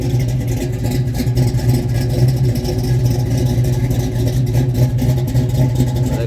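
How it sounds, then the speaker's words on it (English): A 408 stroker LS crate motor runs with a steady, loud mid-pitched engine drone and a light mechanical clatter, holding a fairly even rev throughout with no talking. "That crate motor sounded damn good."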